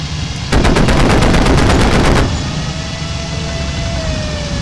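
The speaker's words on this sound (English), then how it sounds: "I'm going for a strafing run" Rapid burst of BF-109 E3 machine gun fire during a strafing run in the IL-2 Cliffs of Dover flight game, loud and close for about two seconds over a steady aircraft engine drone that continues afterward.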